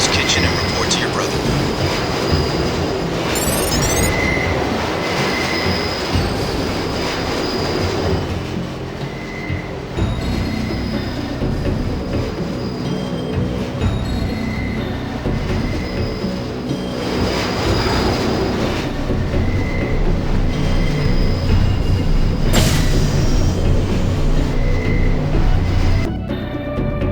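A subway train ride in the Deus Ex video game: a continuous loud rumble of the rail car with clattering wheels and occasional metallic squeals, swelling and easing over the ride, with short bursts of speech.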